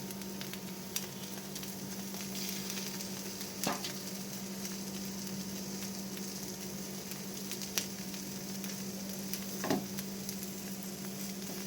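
Egg batter sizzling steadily in a pan on a semolina chilla, a loud, constant hiss with a low hum and a couple of brief louder spatters, with no talking.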